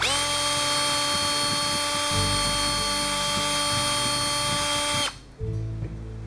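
A power drill whines steadily at high speed while drilling a wooden fishing lure, its pitch holding constant before it cuts off near the end, leaving a brief lower hum.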